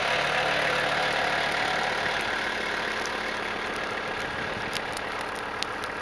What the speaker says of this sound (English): We got a tractor following up behind.